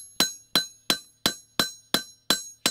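Hammer peening the edge of a scythe blade, eight sharp metallic strikes at an even, unhurried rhythm, each ringing briefly and decaying before the next, close and clear with no talk.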